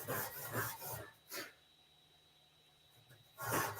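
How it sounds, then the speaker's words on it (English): Scotch-Brite pad scrubbing a cleaned weld on a metal tank, close rough rasping strokes in a quick series, then a pause and one more scrub near the end. "After I've got that weld clean, go over it with a little Scotch-Brite pad"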